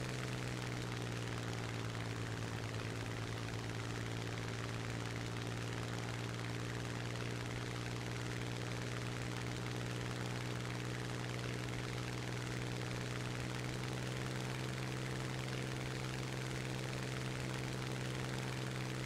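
Aircraft engine drone in a flight simulator battle game, a steady, unbroken propeller hum with strong low tonal bands that holds evenly throughout, with no voices over it.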